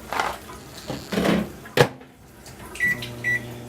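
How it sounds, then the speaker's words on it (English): A microwave oven runs in a kitchen with a bag of frozen vegetables inside, a steady low hum starting partway through over scattered knocks and clatter of cupboards and dishes, with two short bright beeps near the end. "throw it in the microwave"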